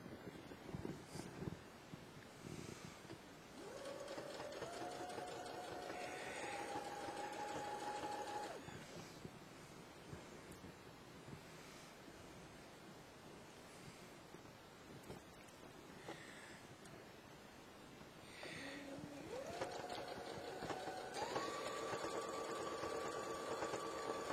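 A sewing machine stitches a fleece hoodie sleeve to the body with a flat-sew method, running in two steady motor whirs with a short pause between, under faint background noise and no talk.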